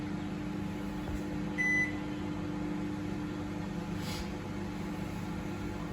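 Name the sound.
IFB 30BC5 microwave oven running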